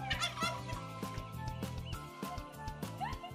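Turkeys on a farm gobbling in repeated rapid bursts, several birds calling near and loud with other poultry clucking in the background.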